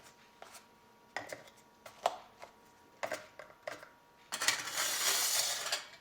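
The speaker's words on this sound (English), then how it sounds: "And then drop a box into each jar." Boxes of dry survival rice mix being dropped into glass jars, a run of separate clinks and knocks at an uneven pace, followed by a longer rattling, rustling clatter, close by with no talk.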